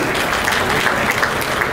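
Audience applause for board volunteers at an economic forecast event, a loud, steady burst of many hands clapping throughout, with no break in between.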